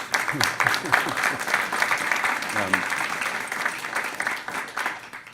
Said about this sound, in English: Can we acknowledge them with a round of applause?